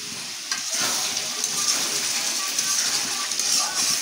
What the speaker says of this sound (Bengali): আমি অফ ক্যামেরা এসে কয়েকবার করে লাড়া দিচ্ছি